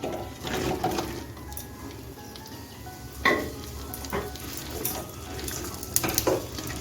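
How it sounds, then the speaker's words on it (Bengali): Okra frying in hot mustard oil in a non-stick pan gives a steady, close crackling sizzle, punctuated by a few sharper clinks and scrapes of stirring. "আমি একটা নন স্টিক করাতে দু টেবিল চামচ সর্ষের তেল দিয়ে গরম করে নিয়েছি এখন ভেন্ডিটা ভেজে নেব"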